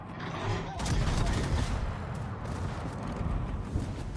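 Naval gunfire in a warship battle video game, a dense rumbling barrage of booming shots rolling on continuously with loud low-end blasts and explosions.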